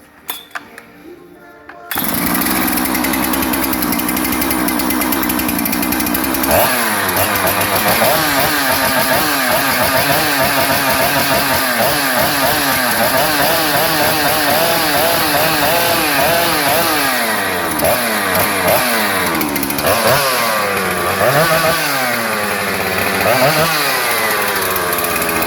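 A Husqvarna 3120xp chainsaw, started without choke, catches after a brief pull and roars steadily at close range, revving up and down repeatedly toward the end.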